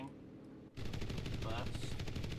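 A rapid machine-gun burst fired from an IAR 80 fighter plane during air combat in the video game Enlisted, loud and dense, following a brief quieter moment of low rumbling.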